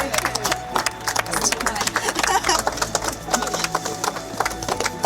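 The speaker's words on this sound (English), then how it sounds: "Big round of applause" A crowd claps in a round of applause at a historic flint mill restoration, with dense, uneven hand claps rising and falling throughout and a voice briefly audible amid the clapping.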